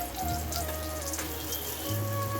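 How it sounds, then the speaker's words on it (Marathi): Rice-flour-coated surmai fish frying in hot oil, a steady close sizzle with faint crackles and a low hum throughout, no voices. "तेलामध्ये आता फ्राय करूया।"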